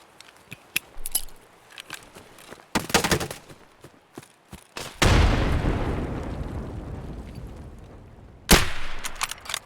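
Gunshots in the video game Escape from Tarkov, at Terragroup Labs: scattered sharp cracks and short bursts, then one heavy booming blast with a long rolling decay, and another loud shot near the end.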